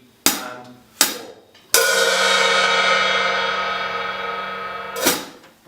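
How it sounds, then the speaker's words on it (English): Drum hi-hat played alone for one bar: a few sharp closed clicks, then a long sustained open hi-hat wash that rings for several seconds before a final choke, close and clear. "Do one bar of your hi-hat and have an open hi-hat at the end."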